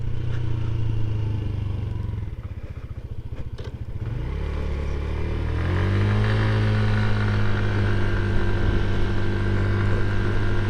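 Genuine Scooters Hooligan scooter engine runs steadily while riding, with a brief dip in pitch and rev near the middle before climbing back to a sustained buzzing hum with road and wind noise.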